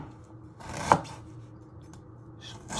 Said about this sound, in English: Next step, we're going to prep the ginger. So you first chop it in half again